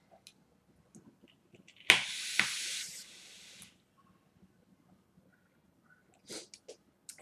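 A long breathy hiss of e-cigarette vapor being exhaled for about two seconds, loud at the start then fading. Faint clicks come before it and a shorter breathy burst follows near the end.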